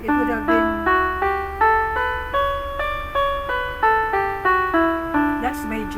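Major scale played note by note on an instrument, plucked tones rising up and then coming back down in a steady even rhythm, close and clear without any voice.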